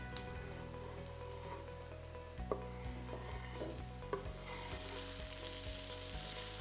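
Garlic and colored peppers cooking in a pan with potatoes for a Spanish egg tortilla: a steady, close frying sizzle with a few light clicks of a utensil.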